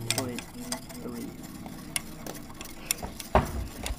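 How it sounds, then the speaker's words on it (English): Spoon scraping and clinking as a thick mixture is stirred in a freezing experiment, with uneven knocks and a sharper clack near the end, fairly close and moderately loud, no talking. "It's really hard to stir now."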